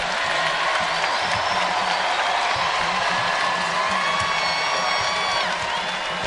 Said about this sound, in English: Crowd on its feet.